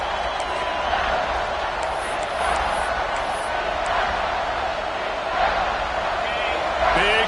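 Dense, sustained roar of a football stadium crowd rising behind the defense on a big third down, steady and loud with occasional whistles, under a commentator's voice.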